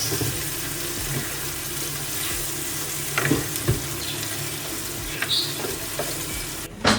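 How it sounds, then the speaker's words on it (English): Constant crackling sizzle of trevally frying in olive oil, steady throughout, with a few light clinks and stirring sounds near the end. "I started frying them in olive oil"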